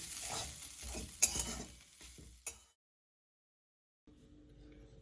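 Flattened rice pulao being stirred in a pan after the gas is turned off, with soft scraping and a couple of sharp utensil clacks for about two and a half seconds, then silence and faint hum.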